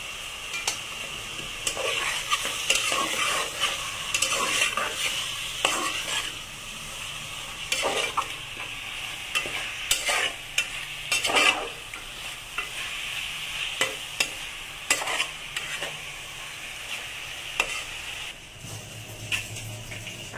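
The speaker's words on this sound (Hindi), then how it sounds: "अभी चिकन को अच्छी तरह से मिक्स कर लेते हैं मसालों में।" Chicken pieces are stirred through masala in a pan for a chicken korma, a sustained sizzle broken by repeated scraping and clattering of a spoon against the pot, close and fairly loud, with no speech.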